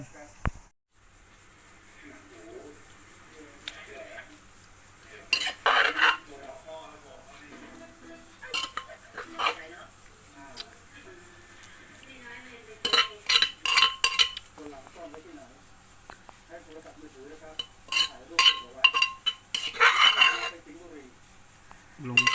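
Spicy cucumber salad with pork sausage and salted egg yolk is spooned onto a plate. Dishes and cutlery clink in scattered bursts under quiet talk.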